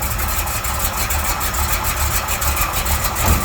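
A Chevrolet Camaro SS with a 396 big block V8, mild cam and automatic transmission idles after a cold start, a steady, loud, close, low rumbling burble with a slightly uneven loping pulse throughout.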